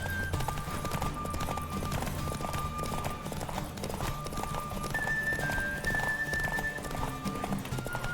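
Hooves of a galloping horse pound in a rapid, continuous clip-clop during a race in The Witcher 3, with occasional whinnies and game music beneath, loud and close throughout.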